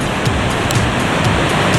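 Ocean waves and surf roll in a continuous, loud wash of broadband noise, steady and close with faint rhythmic pulses and no voices.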